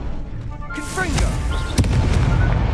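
A Confringo blasting spell is cast in Hogwarts Legacy, a whooshing magical burst followed by a sharp booming impact, with a voice and game effects layered over it.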